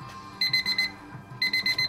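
An alarm clock beeps in two quick bursts of four rapid, high-pitched electronic tones with a short pause between them.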